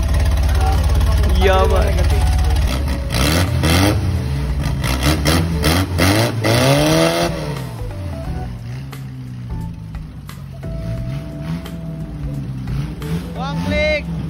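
A car engine at an auto mechanics assessment exam turns over and revs with rising and falling pitch, then settles to an uneven idle, while people talk nearby.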